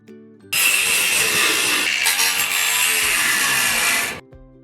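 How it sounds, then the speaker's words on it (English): A power tool trims a metal lip inside a school bus conversion, a loud continuous high-pitched grinding whine starting abruptly, holding steady for about four seconds with a brief dip, then cutting off; no talking. "remember how I told you how this little lip here needs to be trimmed off? So that's what I'm working on today."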